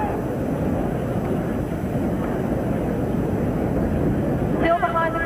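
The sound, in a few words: tennis crowd cheering at the US Open final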